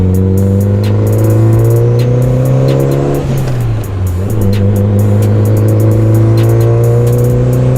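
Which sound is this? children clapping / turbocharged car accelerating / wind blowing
turbocharged car accelerating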